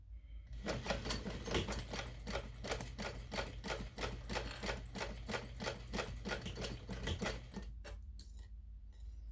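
A sewing machine top stitches an ID pouch, running in a steady rapid clatter of stitches for about eight seconds, then stopping with a few separate clicks.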